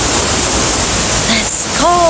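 Rushing water at Bangawan Falls on the Aliwagwag Falls cascades makes a steady, close broadband roar. A short voice-like tone rises near the end.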